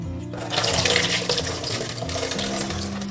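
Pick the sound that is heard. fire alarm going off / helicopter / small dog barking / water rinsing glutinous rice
water rinsing glutinous rice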